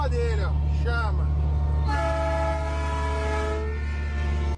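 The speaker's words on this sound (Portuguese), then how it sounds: "Olha o parça do trem, agora tem uma buzina igual a dele, ó." A train-style air horn fitted to a truck blasts in long, loud, sustained chords after brief voices at the start, with a steady low engine rumble underneath throughout.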